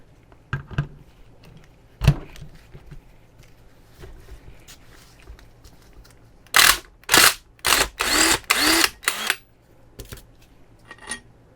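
Loud power tool bursts work a bolt loose from a C3 Corvette brake caliper, starting with a few scattered knocks and then five or six rapid closely spaced blasts before one last short burst.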